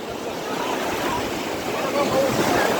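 Sea waves roll onto a Konkan beach as the tide begins to come in, a steady rushing wash with some wind buffeting the microphone and voices talking over it.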